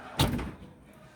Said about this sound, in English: The door on that one also won't close properly.